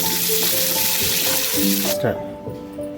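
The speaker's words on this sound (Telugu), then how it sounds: "వేసుకొని లైట్గా ఫ్రై చేసుకోవాలి" Coriander leaves frying lightly in a pan of dal tadka give a loud, steady sizzle that suddenly drops away near the end, with a voice talking over the hiss.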